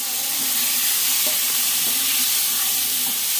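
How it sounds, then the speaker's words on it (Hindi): Spices for rajma fry in a hot pan with a steady, dense sizzle that holds throughout, broken by a few soft scraping strokes as they are stirred continuously nearby; no voices. "सारे मसाले ऐड कर देंगे इसमें और अच्छे से लगातार भूनेंगे।"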